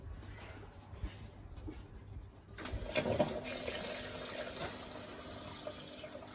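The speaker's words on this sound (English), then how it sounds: "So the pump comes on and it floods the bed." An aquaponics flood and drain grow bed fills as the pump switches on, giving a steady rush of pouring water that grows louder and fuller partway through and then continues as a gushing flow.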